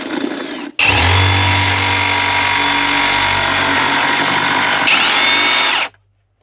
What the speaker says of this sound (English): So we're okay to keep drilling our other holes, and we're not going to crash into anything at all.